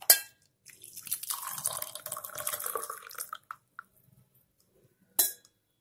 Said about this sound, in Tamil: இப்போ இதுல வடிகட்டிக்கலாம்.